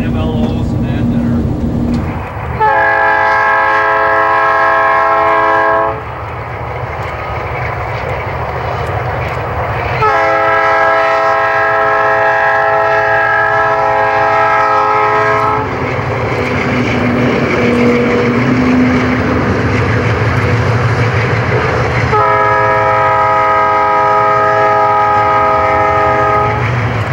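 A freight train on the Kewaunee Division rumbles past continuously while its horn sounds three long, loud blasts, the engine drone and wheel noise carrying between them.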